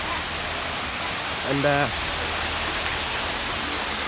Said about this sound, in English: You can walk under this waterfall as well.